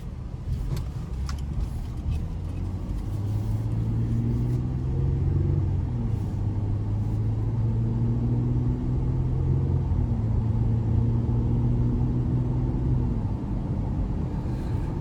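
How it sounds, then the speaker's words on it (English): Cabin sound of a 2021 GMC Canyon Denali 4WD pickup with the 3.6 engine on a road test drive, a steady loud low rumble with engine tones stepping up as it gains speed. "take this Canyon Denali out on the road for a quick test drive"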